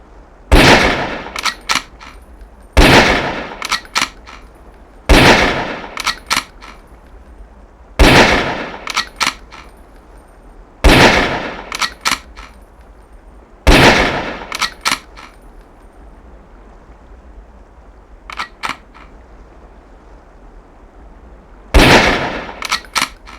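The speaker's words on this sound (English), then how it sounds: "The sniper rifle is equipped with a scope for long-range shots." Sniper rifle shots fired at long-range targets on a video game training range, nine loud, sharp cracks spaced a few seconds apart, each followed by a brief metallic clatter of the bolt, with a quiet pause before the last shot.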